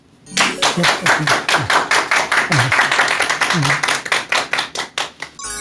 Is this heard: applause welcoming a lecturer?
yes